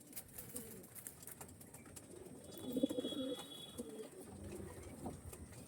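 Pigeons of a deep-chested show breed coo softly in a loft, a few low murmuring calls clustered mid-clip amid general background noise.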